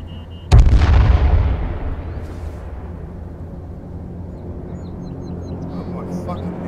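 A grenade in the battle royale game H1Z1 bursts with a sudden loud, deep boom that rolls and fades over a couple of seconds, followed by lingering low rumble and faint game ambience.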